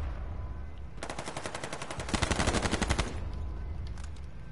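Rapid bursts of automatic gunfire in a video game, two dense strings of shots about a second each, loud and close, with quieter background noise before and after.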